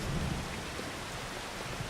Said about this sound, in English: with the rain arriving, it's probably time to head back to the house, back to the farm